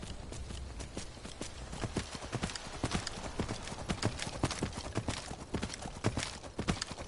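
Hooves clip-clop in a steady, rapid galloping rhythm from a horse in Skyrim, close and continuous throughout, with the odd faint snort or whinny mixed in and no voices.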